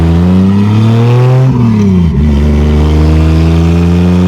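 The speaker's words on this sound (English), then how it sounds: "It spools kind of slow, but it's getting boost now." A turbocharged 2JZ-GE swapped 1987 Toyota Supra with a worn clutch accelerates hard under boost, its engine loud and close, the pitch climbing, dipping briefly at a gear change, then rising again.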